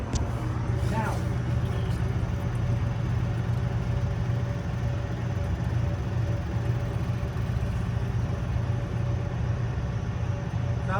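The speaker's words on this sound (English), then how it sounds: "Turn on the pump" The fuel pump of an M715 military truck runs with a steady, low mechanical hum and faint whine, continuous and unchanging throughout.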